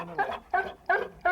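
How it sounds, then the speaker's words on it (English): Dog barking on command, four short, evenly spaced barks close by, with no talk over them. "And he barks what he's told."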